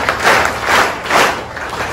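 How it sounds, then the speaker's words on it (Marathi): A group claps loudly in rhythmic bursts, three swells of dense applause-like clapping in close succession, fairly near and without talking. "डोळे बंद ठेवायचे आणि 3 वेळा जोरजोरात टाळ्या वाजवायचे"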